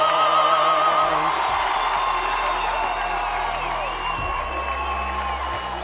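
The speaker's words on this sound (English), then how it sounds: "terrific enthusiasm from the crowd" Stadium crowd at a Varsity Cup rugby match, WITS vs UJ, cheering and whooping in a loud, sustained roar with scattered yells and shouts rising above the mass of voices.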